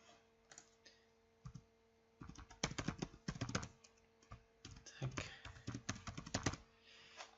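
Keys clatter on a computer keyboard as email details are entered for a webinar sign-up, with soft scattered taps at first and then denser bursts of rapid clicking, all close by.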